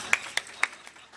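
Three sharp hand claps spaced roughly a quarter second apart, then fainter ones trailing off, from a congregation at a church worship service; brief, fairly quiet and close, with no talking.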